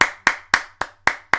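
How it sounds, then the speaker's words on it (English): A single person claps six sharp, evenly spaced times at close range with no other sound, rather than a full audience applauding. "Can we get a round of applause?"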